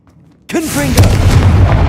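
A Confringo blast spell bursts in Hogwarts Legacy: after a near-silent start, a sudden loud boom erupts and rolls on as a sustained rumbling roar with crackling debris.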